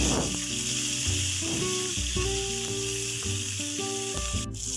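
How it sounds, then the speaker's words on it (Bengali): Sliced raw onion sizzles steadily in a hot pan while being stirred for a Bengali-style matar ghugni, a continuous frying hiss with soft stirring scrapes and no voices. "পেঁয়াজটা দিয়ে তো হালকা একটু নাড়াচাড়া করে দেব"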